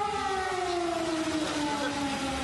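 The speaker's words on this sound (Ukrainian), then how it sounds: "Вмикають сирену." A civil defense siren wails steadily through wide-open ambient noise, its long sustained tones sliding slowly downward in pitch, sounding distant but clear, with no one speaking over it.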